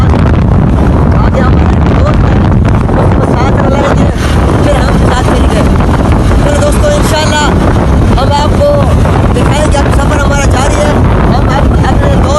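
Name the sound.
riding on a motorcycle on the road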